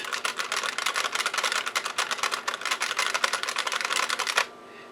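Rapid, close keystrokes clatter on a computer keyboard at an old DOS PC, a dense, even run of clicks that stops abruptly near the end, leaving faint hum.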